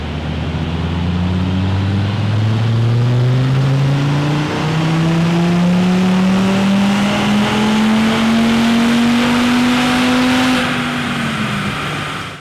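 An Audi RS Q3 with a Provocateur exhaust revs up steadily through a long, loud acceleration, the exhaust note climbing in pitch, close and continuous.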